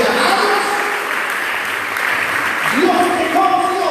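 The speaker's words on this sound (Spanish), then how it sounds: "Denle un aplauso al Señor" A church congregation at a youth leadership conference applauds, a loud, continuous burst of clapping with faint tonal music or voices sounding underneath.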